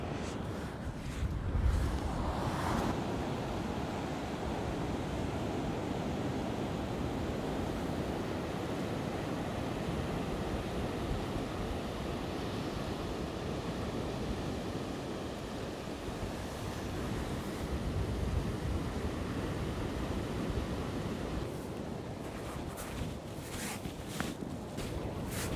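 Ocean surf rolls onto a beach where an outgoing stream meets the incoming sea, a steady broad wash of breaking waves with some wind buffeting across the microphone, no voices.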